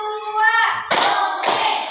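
A classroom of children claps hands together in a counting routine, two loud unified claps following a woman's spoken call.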